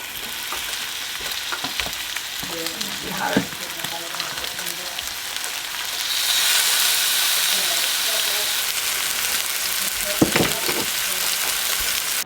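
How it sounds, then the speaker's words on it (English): Pork tenderloin sears in hot lard with a steady hissing sizzle that grows louder partway through, broken by a few clanks of a pan or utensil. "I'm gonna sear it in some lard, and then we'll bake it."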